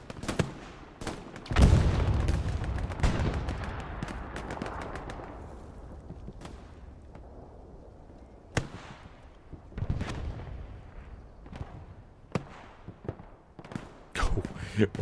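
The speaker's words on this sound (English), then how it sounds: "Rocket exchanges over there between Frecky and the Raspberries to the north behind the..." Rocket launches and explosions during a Hell Let Loose match, booming blasts scattered across the scene at varying distances, some sharp and near, others distant rumbles, with sporadic gunfire and talk over the top.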